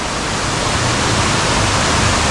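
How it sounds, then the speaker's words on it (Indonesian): A roadside waterfall in the tropical forest of Petungkriyono pours with a loud, steady, unbroken rush of falling water, close by and filling the whole scene without any talking. "Air terjunnya ya, mantep banget di pinggir jalan seperti ini."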